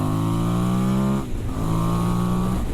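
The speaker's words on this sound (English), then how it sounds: "A little bit of love, a little light caress on the throttle" A heavy adventure motorcycle on a Trans Euro Trail ride through the Peak District accelerates as the throttle opens, its loud, steady engine drone close to the rider, dipping briefly mid-clip before surging again.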